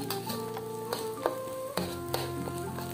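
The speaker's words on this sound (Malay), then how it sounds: "lepas tu kita gaul-gaul dengan cili tu" Scrambled eggs with dried chili and sautéed aromatics in oil sizzle steadily in a pan for chili fried rice, with a spatula clanking and scraping several times, close and continuous, no voices.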